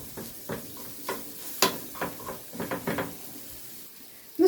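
Coriander and black pepper sizzle in a hot pan while a spoon stirs them, giving soft scraping strokes and light crackling in an irregular rhythm, close and fairly quiet.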